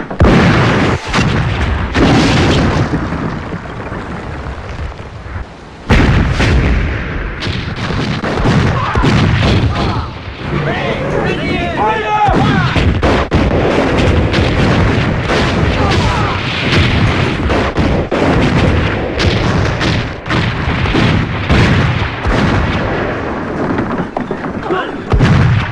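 Heavy artillery and gunfire in a battle scene, dense continuous booms and rapid shots filling the whole stretch with a brief lull near the start, with shouted voices mixed in.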